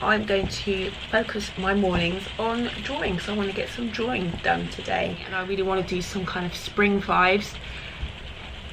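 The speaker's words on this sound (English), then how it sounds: "the rain on the roof is very loud" Heavy rain drums on a roof as a steady, broadband hiss beneath continuous indoor talking by a close voice throughout.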